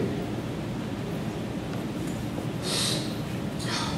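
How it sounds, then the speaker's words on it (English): Someone sniffles close into a microphone during a senior reflection speech at a 2011 senior Mass, with a couple of breathy, hissing sniffs standing out over a noisy room background. "Sorry, I keep sniffling in the microphone."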